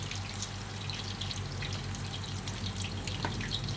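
Chicken wings coated in fish sauce and crisp batter fry in a pan, giving a steady, dense bubbling sizzle heard up close without a break.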